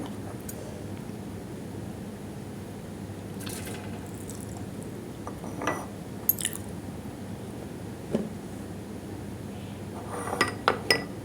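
Squash goes into a pressure cooker for an Assamese khaar dish, with quiet scattered clinks of pots and utensils over a low background hum and a few sharper taps near the end.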